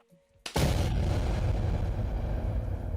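A sudden deep boom hits after a brief quiet moment, then a sustained roaring rumble of an explosion effect that stays loud and dense to the end.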